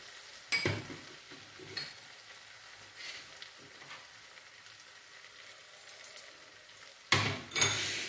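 Masala with chili powder, tomato puree and spice mix being sautéed and stirred in a pan, giving a soft steady sizzle with a few louder scraping clatters near the start and end, and no voices.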